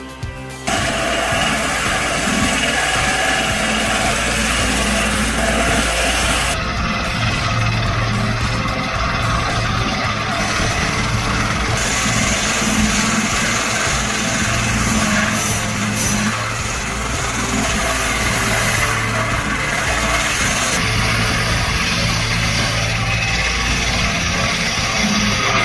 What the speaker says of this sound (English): equipped with a large circular saw blade, powerfully cuts through massive logs